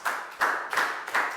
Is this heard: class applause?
yes